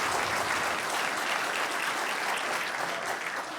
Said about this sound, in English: they deserve a round of applause for that